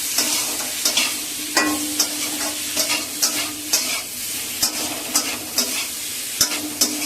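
Potatoes sizzle in a frying pan while a spatula scrapes through them in regular strokes, about one each second, close and clear with no talking.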